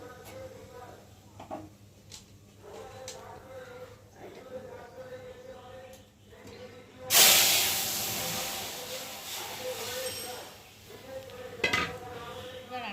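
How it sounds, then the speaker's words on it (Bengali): Dal poured into a hot fried tempering hits the pan with a sudden loud hiss and steamy sizzle that slowly fades, after quieter clinks of utensils and a voice talking beforehand. "এখন আমি ডালটা ওর মধ্যে ঢেলে দেবো"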